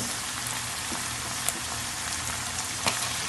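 Squid for binagoongang pusit hits a hot pan and sizzles steadily, a dense broadband crackle with a couple of sharper pops, close and alone without voices.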